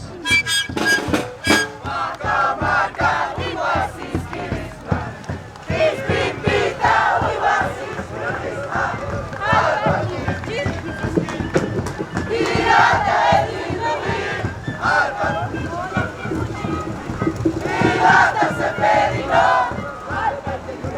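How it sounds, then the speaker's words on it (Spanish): A crowd at a sikuris panpipe music performance in El Alto breaks into sustained clapping mixed with shouts and cheers, dense and loud throughout. "¡Y los aplausos!"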